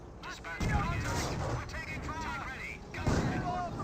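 Mortar shell explosions in the World War II strategy game Company of Heroes, several muffled booming impacts over a busy battle bed, with a commentator talking over the action.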